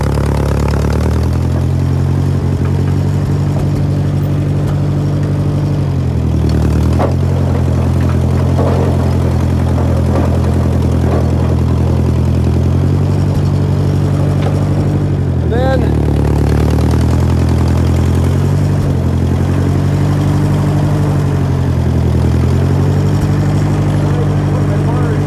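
A Ferguson 35 tractor with a loader and dual-blade plow chugs steadily while back-dragging snow, its engine loud and close with a rhythmic low throb that rises and falls as it works, a voice speaking over it.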